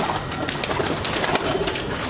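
A Malwai pigeon gives soft, repeated coos against a dense, noisy background.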